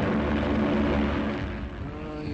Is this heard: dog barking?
no